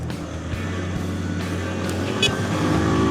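A motorcycle engine idling steadily on a cold wintry day just after being started, a close, continuous low rumble with a slight rise near the end and no talk.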